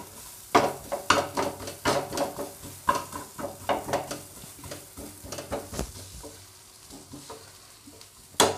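Cauliflower frying for paratha filling gets stirred in a hot pan, a spoon scraping in repeated close strokes over a constant sizzle with occasional sharper clinks.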